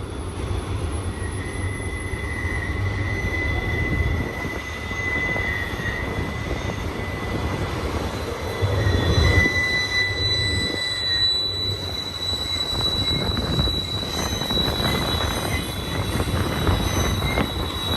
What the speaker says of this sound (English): Long train here.